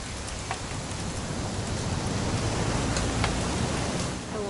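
Steady rain pours down in the video game What Remains of Edith Finch, a constant, even hiss, with faint scattered drops ticking through it and no voices.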